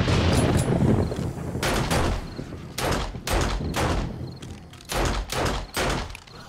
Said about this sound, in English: I'm going to have to be very skillful of my shooting now.